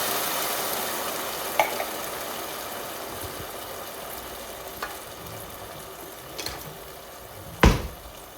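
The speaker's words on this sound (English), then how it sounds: "So now I'll add in the tomatoes" Tomatoes sizzle steadily in a hot pan for a pizza sauce, a continuous broadband frying hiss with a few sharp clicks and one louder clatter near the end; no voices.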